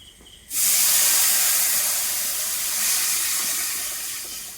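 Tamarind water poured into a hot pan, bursting into a loud, steady hiss of steam after a quiet start, then slowly fading while staying continuous, with no voices over it.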